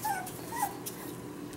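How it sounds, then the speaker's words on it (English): Three-week-old puppies whimper in two brief, thin high whines near the start, faint against a quiet room. "Senna and Scotch puppies are 3 weeks old"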